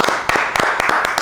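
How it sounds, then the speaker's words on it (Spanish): Clapping greets a guest, Sister Yajaira, at a church conversation event, heard as quick, evenly spaced sharp claps close by through a brief burst with no talking. "darle un fuerte aplauso a nuestra invitada de hoy"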